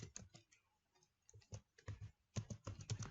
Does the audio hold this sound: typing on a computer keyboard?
yes